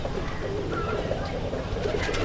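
A white male Rajshahi local Giribaz pigeon coos nearby, soft rolling low coos repeating over a steady background hum.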